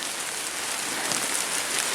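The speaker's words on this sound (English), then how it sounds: "Gotta get out of this pouring rain that just suddenly decided it's gonna happen." Heavy rain pouring down outdoors at a lake campsite, a dense, steady, loud hiss of drops striking surfaces with no break.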